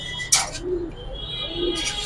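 A pigeon gives two soft, low coos about a second apart, close by but faint. A brief rustle or flutter comes before them and a light hiss follows, with no talking.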